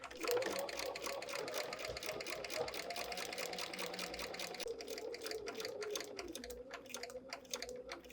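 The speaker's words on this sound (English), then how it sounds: "And we'll go sew that final seam for this block." A sewing machine stitches the final seam of a foundation paper pieced quilt block, running in a steady rapid rhythm that stays close and fairly quiet throughout, with no talk.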